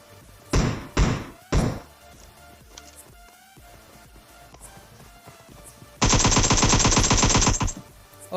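Gunfire in the mobile battle-royale game PUBG Mobile during a solo-versus-squad match: three separate heavy shots, a quieter stretch of game ambience, then a long rapid automatic burst, loud and with no talk.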